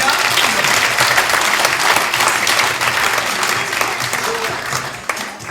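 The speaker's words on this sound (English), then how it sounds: "Give him a big round of applause as he comes." A live audience at a variety entertainment show claps steadily for a volunteer stepping up on stage, a dense, sustained round of applause that carries close and loud before tapering slightly at the end.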